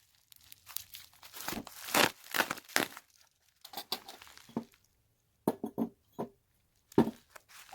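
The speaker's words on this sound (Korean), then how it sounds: "마지막 하나 뜯어 보겠습니다" Packaging for small succulent pots is torn open close by in a run of quick ripping and crinkling bursts, with soft clinks between them and short quiet gaps.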